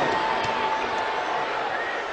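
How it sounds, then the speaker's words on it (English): A capacity WWE SmackDown wrestling crowd fills the O2 Arena in London with a steady, dense roar, heard under a commentator talking. "A capacity crowd here at the O2 Arena in London, England."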